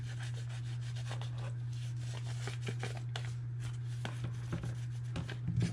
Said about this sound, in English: I'll come back with my bone folder and I'm going to take this and just lay it down inside of the purse and come back and get that nice and smoothed out